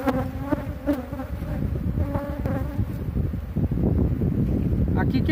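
Dense, steady buzzing of a swarm of honeybees at close range during transfer of a wild colony with very large combs into a hive on a farm, droning continuously with a voice talking over it.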